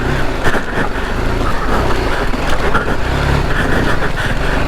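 A BMW 310GS motorcycle fitted with a Rally Raid kit works its engine along a tricky UK country lane, a steady, loud, close rumble throughout without a break.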